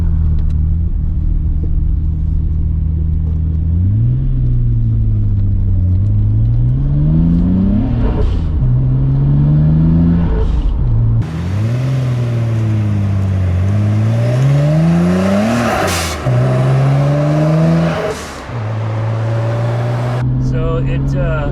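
Nissan Skyline GTR on softer Ohlins DFV spring rates with an HKS air flow adapter, accelerating hard through a corner: a loud engine note climbs and drops through repeated rev sweeps and gear changes, heard close from inside the car.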